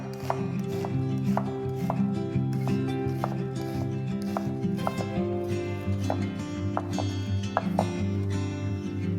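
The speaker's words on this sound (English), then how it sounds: "Half a red onion, diced." A knife dices half a red onion on a cutting board, with crisp, evenly spaced chops repeating close up over a steady low background hum.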